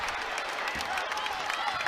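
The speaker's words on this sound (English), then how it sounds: "Drills the first. Crowd erupts." Basketball arena crowd at a women's college game in College Park, cheering and applauding after a made free throw. A dense, sustained roar fills the space while a commentator talks over it.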